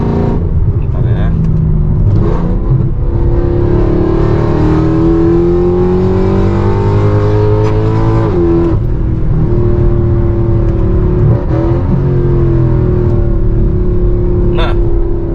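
A Mercedes C63 AMG with a 6.3-litre V8 drones loud and steady from inside the cabin on a toll road, its engine pitch rising and falling through revs as people talk over it.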